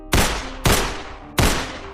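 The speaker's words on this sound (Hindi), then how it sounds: "उनके ही अपार्टमेंट में घुसकर सुबह के 7 बजे पिस्तौल से गोलियां मारी जाती है" Three sharp pistol gunshots ring out as a sound effect, each a loud, close crack with a short decaying tail, spaced about half a second to three-quarters of a second apart.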